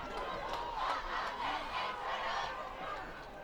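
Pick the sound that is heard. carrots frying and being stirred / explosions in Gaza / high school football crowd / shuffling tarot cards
high school football crowd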